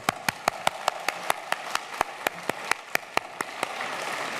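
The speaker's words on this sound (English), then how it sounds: "So I think we should actually have a really good clap." Audience applause at a design competition finals event in London, heard as a steady run of distinct sharp claps at a moderate, regular pace, rising into a denser spread of clapping toward the end.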